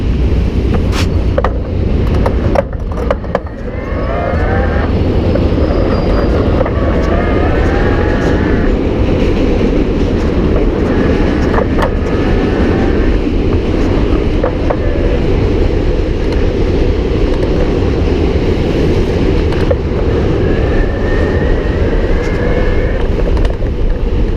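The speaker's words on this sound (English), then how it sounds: "I'm going to be in turbo mode, so it's going to be the loudest and probably the most aggressive shifting" A Moustache Samedi 27 XROAD 5 electric bike rides in turbo mode with aggressive gear shifts, its steady loud motor whine and road rumble running continuously up close, with a brief clunk near the start.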